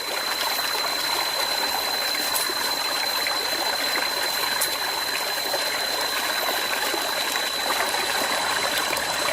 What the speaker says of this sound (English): splashes from the river